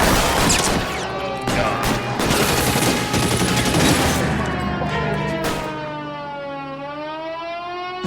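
Covering fire in a video game: dense, rapid bursts of machine-gun fire crackle loudly for about five seconds, then give way to a wailing siren-like tone that rises and falls on its own.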